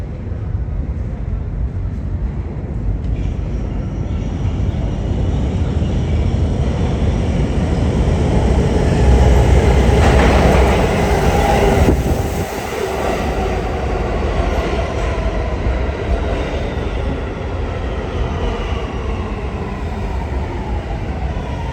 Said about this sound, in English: This is 168th Street bound C local train.